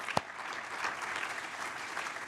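An audience at a Fred's Team pre-race celebration breaks into brief applause, a steady dense patter of clapping from a crowd, with one sharp close clap near the start.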